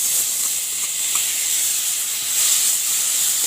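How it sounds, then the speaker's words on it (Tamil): Tomatoes sizzle in a hot pan for Jaffna-style bread kottu, a loud, even hiss that stays steady throughout with slight swells. "இப்போ வந்து இதோட நான் தக்காளி சேர்க்க போகிறேன்"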